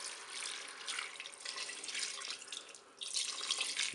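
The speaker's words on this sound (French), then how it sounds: "je vais verser de l'eau pour recouvrir mes pâtes" Water pours steadily over spaghetti in a Cookeo multicooker pot, a soft continuous splashing stream with a brief dip and renewed flow near the end, close and fairly quiet with no talk.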